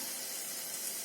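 Steak frying in spattering butter gives a brief, steady high hiss and crackle of sizzling fat, close and even with no voices.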